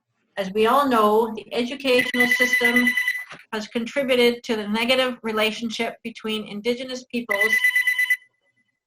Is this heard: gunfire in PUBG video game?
no